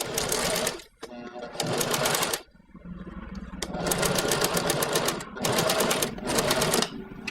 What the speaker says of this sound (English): Off to the sewing machine